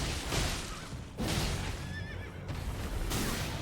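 An enemy rider's horse whinnies in Elden Ring, a brief wavering neigh rising out of loud, noisy combat ambience with heavy thumps around it.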